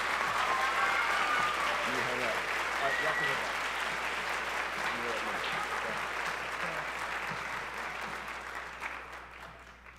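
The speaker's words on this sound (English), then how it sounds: "Give these students one last round of applause" An audience at a high school concert and symphonic band performance gives sustained, dense applause that slowly fades toward the end.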